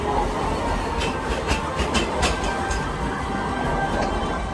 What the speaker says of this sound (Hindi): ये बीचों बीच ट्राम